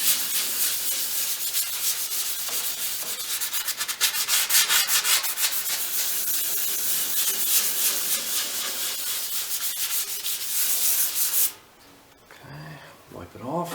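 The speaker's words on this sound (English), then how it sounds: "Now we'll wet sand a little bit." Wet sanding on the metal of a vintage Delta shaper, a continuous close rasping rub for about eleven seconds that stops abruptly, followed by quieter handling sounds.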